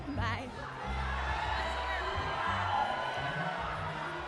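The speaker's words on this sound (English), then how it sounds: "Right now, the crowd is getting hyped up again, or still." Crowd noise at a USA Climbing National Cup bouldering competition, a steady broad roar of voices with scattered whoops and cheers, loud and sustained throughout, with a deeper voice murmuring close underneath.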